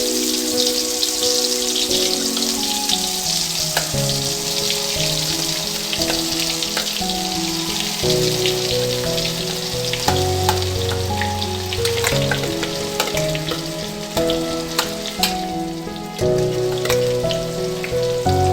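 Ground paste of homemade hair oil ingredients frying in heated oil in a pan, a loud, steady, dense sizzle and crackle that runs without pause, close by and alone.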